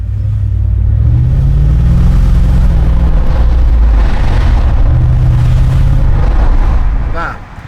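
A Mercedes SL55 AMG's engine accelerating, a loud, deep, close rumble that swells as the revs rise, holds strong and then fades away at the end.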